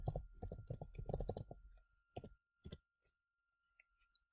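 Computer keyboard keys clatter in a quick burst of typing for about a second and a half, then a few scattered, separate keystrokes follow with pauses between them, all close up and with no talking.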